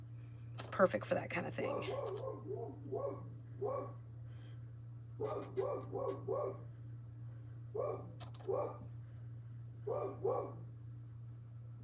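A pet dog barking repeatedly indoors in clustered bursts of short barks and yips, somewhat distant, while a person talks over a steady low hum.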